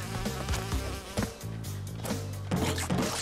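Buzzing bees in the Crash Bandicoot N-Sane Trilogy video game, a steady insect drone layered over the game's music and occasional impact sounds.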